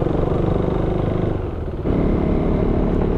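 A BMW 650 motorcycle ridden two-up on a Gran Canaria tour, its engine droning loudly and steadily up close with a brief dip in revs before pulling strongly again.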